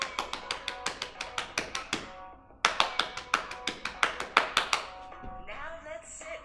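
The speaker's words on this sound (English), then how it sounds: "Drum on your knees." Hands drum on knees during a children's drum yoga song, a steady run of crisp, close slaps in an even beat that pauses once, then resumes and fades under singing.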